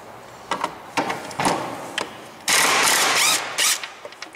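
A 15/16 wrench works a nut on a Hustler mower deck spindle, giving a series of sharp metallic clicks and ratcheting scrapes with a longer, louder grinding burst in the middle, close and without talk.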